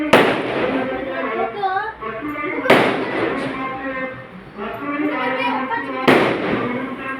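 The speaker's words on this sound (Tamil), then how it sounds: "வெளியே இங்கே தான் பட்டாசு வெடிக்கிறாங்க" Firecrackers set off outside during a temple wedding festival burst in three sharp broadband blasts, each followed by crackling decay, with voices talking between the bursts.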